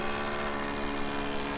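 A quarter-scale Klemm L20 interwar model airplane flying in a slow climb, with a steady, droning propeller and engine tone that holds at an even, moderate distance throughout, with no voices.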